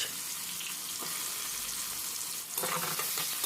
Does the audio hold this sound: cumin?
yes